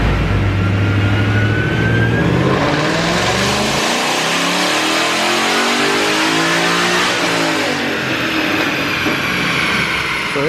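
Supercharged 2016 Ford Mustang GT V8 on a dyno during a full pull, loud close engine roar climbing steadily in pitch through the run and then easing off near the end, with no voices.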